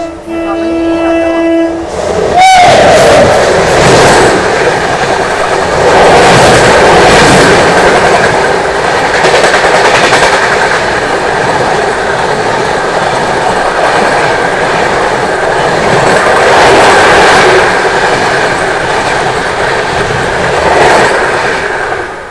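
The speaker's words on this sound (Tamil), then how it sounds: "இப்போ நம்ம வண்டி ஜான்சிக்கு பிஃபோர் டைமில் முன்னாடி போயிட்டு இருக்குங்க." The 12647 Kongu Express passenger train runs on rails near Jhansi with a brief horn blast at the start, then a loud, continuous roar of wheels and carriages rumbling along the track with rhythmic clatter, heard from on board.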